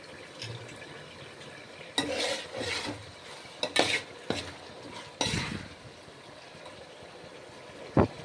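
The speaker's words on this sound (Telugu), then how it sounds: "ఈ రొయ్యలను అన్నిటిని కలిపి కలయ పెడుతూ గరిటెతో కలయ ఉండాలి" A ladle stirs raw prawns frying in a pan, with scattered scrapes and clinks against the metal over a soft sizzle, the stirring coming in short bursts between quieter stretches.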